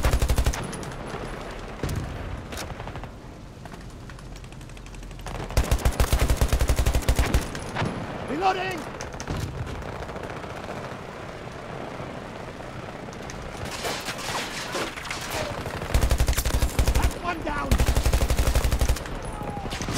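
Gunfire in the video game Battlefield 2042: repeated loud bursts of automatic fire come in clusters between quieter stretches of combat ambience, with aircraft-like rumble in the background.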